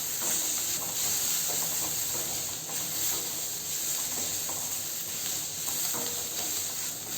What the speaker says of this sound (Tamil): ஒரு 2 நிமிஷம் நல்லா வதக்கி விட்டுறலாங்க